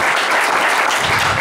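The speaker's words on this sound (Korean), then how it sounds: "다시 한번 박수 부탁드립니다" Audience applause after a company chairman and a legislator are honored at a Korean university business school lecture, a dense, steady wash of clapping filling the short moment without a break.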